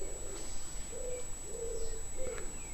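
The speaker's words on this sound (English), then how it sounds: "There's a little bird there, look." A bird calls near a rural Suffolk church, giving several soft, low cooing notes in a slow, evenly spaced rhythm, moderately close against quiet outdoor background noise.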